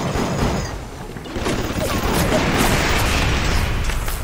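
Gunfire aimed at a security camera in BioShock, a dense run of loud shots and booming impacts filling the clip over continuous game ambience.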